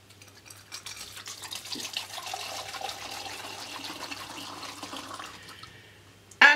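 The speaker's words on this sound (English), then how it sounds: "grab yourself some methanol and fill it through the funnel." Methanol poured through a funnel into a homemade room heater made from an old sock, a soft continuous trickle and gurgle of liquid ending in a sharp louder clunk.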